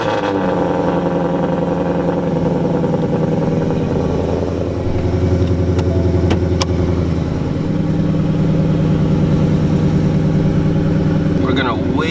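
A Ford Mustang engine runs at a cold-start idle, a loud steady close rumble with a faint mechanical tick, a sharp click near the middle and rising noise near the end.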